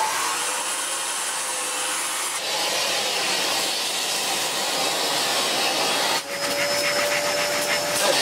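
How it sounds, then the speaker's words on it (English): A vacuum cleaner cleans the filter of a Vax Air cordless vacuum, running as a loud, steady roar with shifting rubbing and sucking textures, a brief dip near the end, and a thin whine. "let me find a vacuum cleaner"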